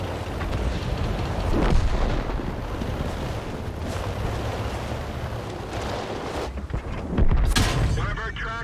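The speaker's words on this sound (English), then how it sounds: "2 tanks shooting at me now." Tank cannon shots in the World of Tanks video game, two loud booming blasts, one early and one near the end, over steady wind-like rumble and engine drone, with a player talking throughout.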